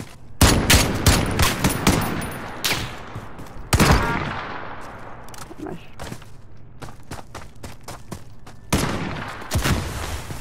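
Video game gunfire bursts out in sharp, loud volleys during a tournament match, with quieter scattered shots between them and a player talking over parts of the action.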